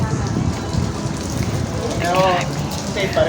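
Rain pours during Typhoon Aghon in a steady, hissing downpour close by, and a voice briefly rises over it toward the end.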